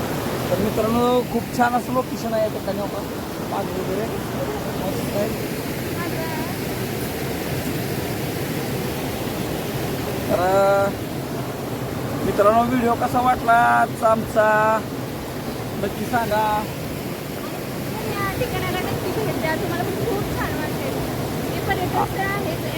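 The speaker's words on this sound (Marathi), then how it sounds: "पाण्याचा जास्त आवाज येतोय" Loud, steady rush of water flowing outdoors in a natural setting, a continuous broadband roar that fills the whole stretch, with brief voices faintly breaking through at moments.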